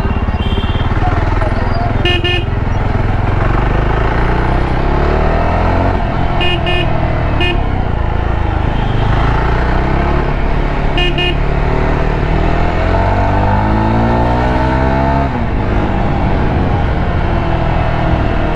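Loud, dense Delhi road traffic from a Jawa 42 Bobber motorcycle ride through a market-like street, with repeated car and truck horn blasts in short bursts over a steady engine drone.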